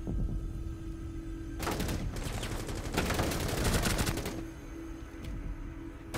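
Gunfire in the video game Rainbow Six Siege: a dense, rapid burst of automatic shots lasting a few seconds, loud over a low in-game ambient hum.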